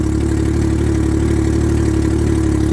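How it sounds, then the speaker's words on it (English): A Can-Am Ryker motorcycle engine runs steadily after a new battery install, a loud, continuous low mechanical drone with a regular pulsing beat and no speech. "at least it's cranking straight up"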